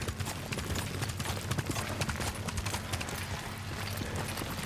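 Galloping horse hooves in the Ghost of Tsushima video game, a steady rapid clip-clop pounding close and loud throughout, with no talk over it.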